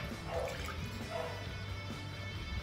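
Water is poured into egg yolks for an inipit batter, a soft, faint liquid trickle and splash over low steady background noise.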